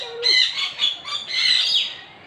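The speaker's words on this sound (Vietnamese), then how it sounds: "đây được gọi là vẹt lori" Lory parrots calling in a run of bright, chattering chirps and squawks, several overlapping calls close by with no talk.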